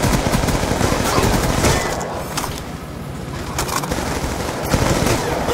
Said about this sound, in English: We're taking shots from up the hill.